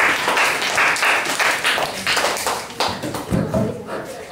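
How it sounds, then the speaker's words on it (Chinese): A classroom audience of students claps to welcome a teacher, giving a dense, steady patter of applause for a few seconds, with some voices mixed in under the clapping. "请各位掌声欢迎一下"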